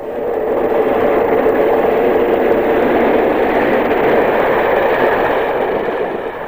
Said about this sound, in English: 45106 at Rotherham Parkgate with the classic Edinburgh Plymouth in 1982.